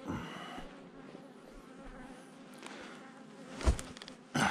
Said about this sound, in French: Tiens, encore un frelon. Voilà, ils sont là.